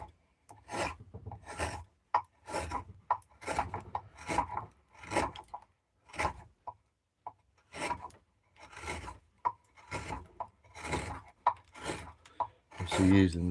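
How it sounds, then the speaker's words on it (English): A chisel carving a wooden bowl, giving a series of rough rasping scrapes in irregular bursts, close and fairly loud, with a voice talking between the strokes. "you can see the chisel coming down, so I can leave the piece"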